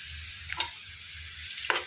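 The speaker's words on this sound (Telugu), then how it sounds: "ఇందులోనికి ఎండుమిర్చిని కూడా వేసేసుకోవాలి." Dried red chillies fry in oil for pachakura curry, giving a soft, steady sizzle broken by two short scraping stirs of a spoon against the pan.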